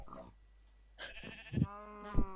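Sheep in the Minecraft video game bleating twice in short, wavering cries, the second louder, following a soft earlier sound over a quiet background.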